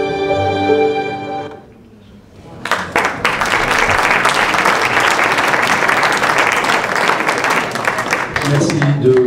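Film festival audience at an awards ceremony breaks into loud, sustained applause after a brief lull, a dense wash of clapping that holds steady to the end, with a voice heard faintly at the start and close.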